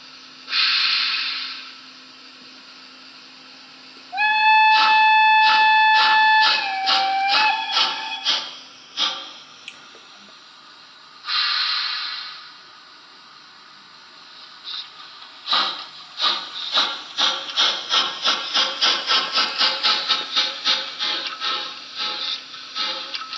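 A Trix HO scale DR class 19.0 steam locomotive with DCC sound and dynamic smoke gives a long hiss, a multi-tone whistle, then steady rhythmic chuffing, another hiss, and chuffs that quicken into a fast even beat.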